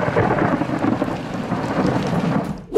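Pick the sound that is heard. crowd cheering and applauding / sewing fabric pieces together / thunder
thunder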